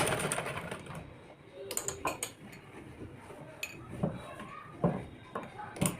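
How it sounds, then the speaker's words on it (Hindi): A sewing machine stitches along the edge of a kurti collar in short, uneven bursts with clicks and clatter, close by over a quiet room. "ये देखिए अब हम इसको इस तरह से पूरे इसके किनारे किनारे पे सिलाई मार देंगे"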